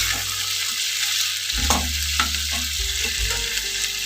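Prawns fry lightly in a pan, a continuous close sizzle with several scraping stirs and light utensil knocks, alongside a low steady hum of the stove or an appliance and no speech.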